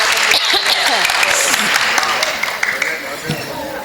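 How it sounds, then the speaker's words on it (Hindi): Loud, steady audience applause for a ghazal at a Hindi comic poetry gathering, dense clapping that fills the room and thins slightly toward the end, with some voices mixed in. "एक जोरदार तालियां उस गजल के लिए।"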